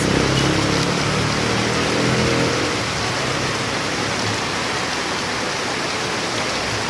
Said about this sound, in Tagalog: ang lakas ng ulan ngayon guys